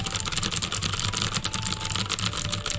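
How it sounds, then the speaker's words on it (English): Fast typing on a mechanical keyboard with loud blue switches: a dense, steady stream of sharp, close clicks and clacks with no talking. "known to be one of the loudest blue keyboard clack sound"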